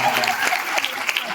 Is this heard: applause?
yes